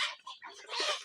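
Desi hens on a small poultry farm let out a quick run of close, clear clucks, lasting about a second with no speech.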